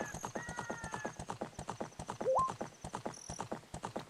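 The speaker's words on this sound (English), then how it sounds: "The game has like a rumble when you're riding the horse." A horse gallops in a Zelda video game with Big Poes, its steady rapid clip-clop hoofbeats running throughout, a whinny and bright game chimes layered on top.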